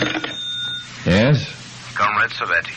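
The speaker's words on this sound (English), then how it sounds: "And then the phone rang." An old-fashioned telephone bell in a radio drama, a loud ringing burst that cuts off as a man answers, with his short spoken reply following.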